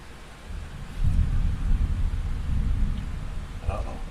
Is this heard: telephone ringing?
no